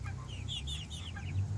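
A backyard hen clucks softly in short, chattering bursts, close by and fairly faint, over a low steady background rumble.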